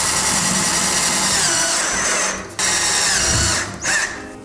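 A power drill drives screws through a drywall sheet on a fireplace portal frame, whirring loud and close in two long runs separated by short pauses.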